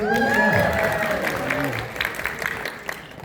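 Audience applause at a fan convention panel, a loud burst of clapping and crowd noise that starts under a speaking voice and then carries on alone, thinning out.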